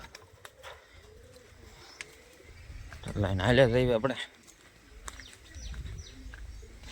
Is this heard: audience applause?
no